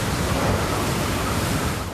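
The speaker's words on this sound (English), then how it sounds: "The sheer force of the wind tearing huge trees from the ground and splintering others like matchsticks" A ferocious storm on the Gold Coast brings a loud, unbroken roar of wind that holds steady the whole time with no voices.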